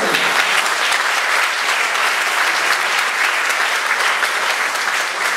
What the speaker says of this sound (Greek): Χειροκροτήστε τον.